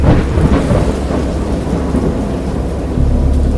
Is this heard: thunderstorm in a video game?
yes